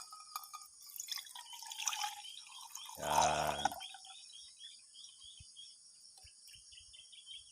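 A brief gush of water poured out of a PCP airgun's hand pump, lasting under a second, over a steady high insect chirping and a few faint drips.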